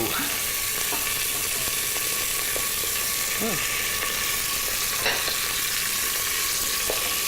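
Meat browning in a little olive oil in a pan gives a steady, dense sizzle and crackle that holds through the whole stretch, with a few faint clinks and short bursts of talk on top.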